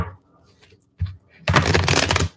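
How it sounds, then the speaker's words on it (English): Tarot cards being shuffled by hand, a dry papery riffle with a brief flutter, then a loud sustained burst of rapid card flicking that ends the moment, close and alone. "Can the card shuffle normally?"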